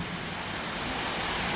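Heavy unseasonal rain falling in Konkan makes a steady, dense broadband hiss that holds at an even level throughout, with no voices over it.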